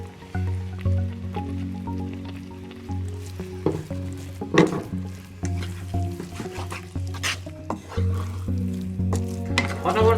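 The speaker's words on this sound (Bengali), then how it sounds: "অনবরত নাড়তে হবে কম আঁচ দিয়ে" Coconut being stirred with melted sugar and cardamom seeds in a pan over low heat for coconut sandesh, giving soft continuous scraping and squishing with a faint sizzle, close by, with a steady low hum underneath.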